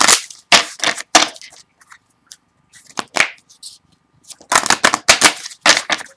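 A deck of affirmation cards is shuffled by hand in quick bursts of papery riffles and slaps, close and fairly loud, with short pauses between passes.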